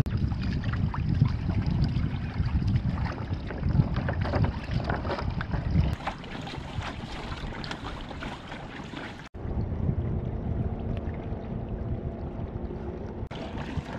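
Wind buffeting a Hobie sailboat at Lakes Entrance, a continuous loud rushing roar with water sloshing against the hull, the gusts shifting in strength partway through.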